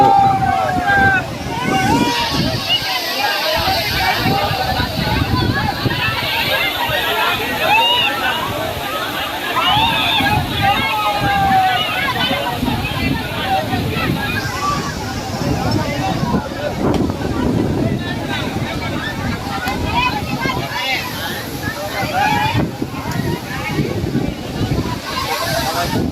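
Waterfall at the Maa Tutla Bhavani eco-tourism site, a loud, steady rush of water and splashing over gusts of wind, with people's voices mixed in throughout.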